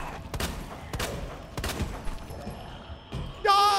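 Several sharp gunshots fire in irregular bursts in the Resident Evil video game, loud and close, followed by a rising electronic tone at the very end.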